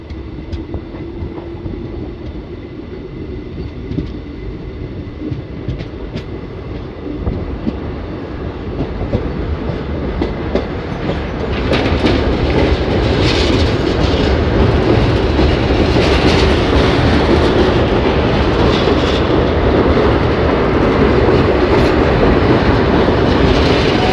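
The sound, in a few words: Ahmadpur–Katwa passenger train departing Nabagram Kankurhati halt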